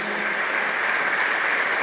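A church congregation at Mass applauds steadily in a dense, continuous patter of clapping, fairly loud and close throughout.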